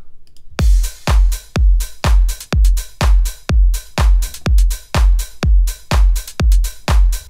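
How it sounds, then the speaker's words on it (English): Future house drum loop with a punchy kick on each beat and an open hi-hat on the offbeats, closed hats filling between, alone in a steady, loud four-on-the-floor groove. "So kick here on the 1, open hi-hat halfway in between to the next kick"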